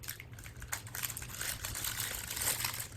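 Doll shoes are unwrapped from their packaging in a run of close, soft crinkles and rustles that grow slightly busier toward the end, with no voices.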